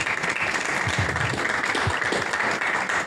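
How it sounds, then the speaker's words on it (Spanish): Audience at a press conference presenting the Senior Masters Cup in Marbella breaks into steady applause, dense clapping throughout at an even level, fairly close. "Un fuerte aplauso para David."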